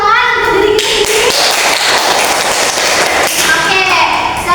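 Children clap their hands together in a classroom, a dense, steady burst of loud clapping that runs throughout, with young voices calling out at the start and end.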